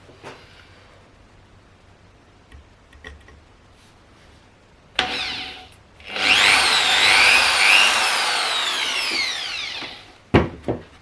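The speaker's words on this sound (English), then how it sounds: "just check the drill is running clockwise." A power drill whines loudly into the thin wood of a guitar build for several seconds after a short burst, then stops with a sharp knock at the end.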